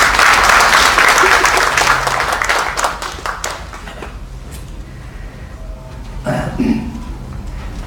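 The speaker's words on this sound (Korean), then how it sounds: "박수로 맞이해 주시면 좋겠습니다." Audience applause greets a pastor, the emergency committee chair, invited to speak at a seminary professors' protest against church succession; loud dense clapping fills the opening seconds, then thins and fades to scattered claps with faint murmuring.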